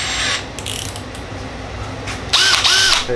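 Milwaukee 12-volt 3/8-inch drill driver, its chuck clicking as it locks and short bursts of the motor whirring up and down, loud and close with no talk.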